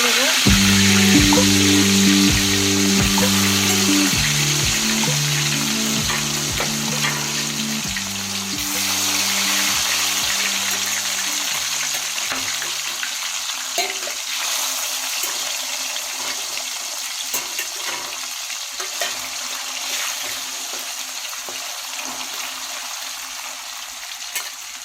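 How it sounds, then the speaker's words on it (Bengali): Rohu fish pieces frying in hot oil, a constant close crackling sizzle with occasional clinks; a low droning hum underneath fades out partway through, and there is no talk. "এবার আমি একটা একটা করে মাছ আবার ছেড়ে দেবো।"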